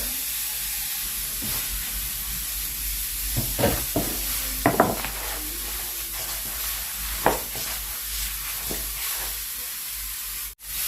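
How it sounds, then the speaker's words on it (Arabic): A spoon mixes almond paste ingredients with egg yolks in a bowl: sparse, soft scrapes and clicks over a quiet background hiss, close and unhurried, with no talking. "غادي نخلطوا هاد المقادير هادو مع بعضياتهم"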